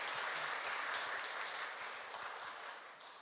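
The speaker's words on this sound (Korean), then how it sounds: "박수 한번 쳐주세요" Audience applause in a Won Buddhist temple gathering, a dense wash of many hands clapping that stays steady and fairly loud before easing off slightly toward the end.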